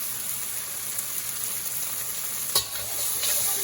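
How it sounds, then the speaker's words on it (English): Shrimp, onions and peppers stir-fried for a Sri Lankan devilled prawn dish sizzle steadily and loudly in a pan, with a brief scrape of stirring partway through. "Now combine the shrimp, onions in,"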